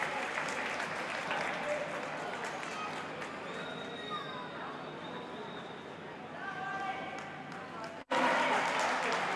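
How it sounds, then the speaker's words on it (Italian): Spectators at a boxing bout applaud after the fight ends, a sustained crowd clapping that rolls on for several seconds under a commentator's voice, then briefly cuts out and resumes louder. "Applausi."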